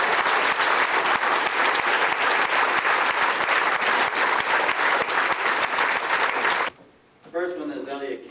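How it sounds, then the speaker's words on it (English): A banquet crowd applauds for Dan, a dense, loud, sustained roar of clapping that runs for nearly seven seconds and then stops abruptly, after which a voice speaks. "so let's give Dan a big round of applause"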